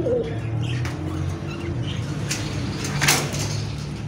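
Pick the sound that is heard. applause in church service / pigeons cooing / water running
pigeons cooing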